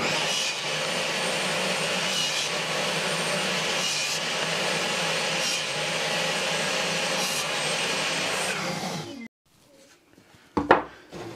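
A power saw cuts wooden boards to 66 mm width for a homemade fan, a loud steady whine for about nine seconds that stops abruptly, followed by a few knocks and handling sounds.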